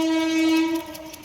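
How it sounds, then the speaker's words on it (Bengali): A train passes the lowered rail gate at Mirza station: a loud, sustained horn blast with a strong tonal pitch holds for most of the moment, then fades into low rumbling rail noise, with no talking. "ওই যে রেল যাচ্ছে।"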